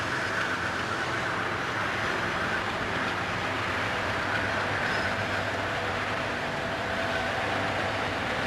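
A New Jersey Transit commuter train passing near Hoboken, a steady, fairly loud rolling roar of wheels and cars that holds evenly throughout with no pauses.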